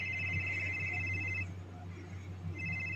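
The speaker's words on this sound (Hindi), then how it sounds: "उसी समय समीर का फोन बज पड़ा।" A mobile phone rings with a steady electronic ringtone, repeating in two bursts with a short pause between, moderately faint against a low background hum.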